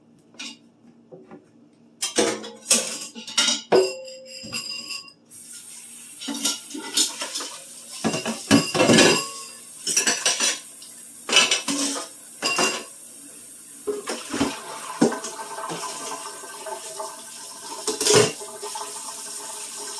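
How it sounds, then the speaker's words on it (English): Dishes and cutlery being washed in a kitchen sink: irregular clinks and clatters of plates, pots and silverware, close and fairly loud, with occasional splashing water and no talking. "Get some of these dishes washed up."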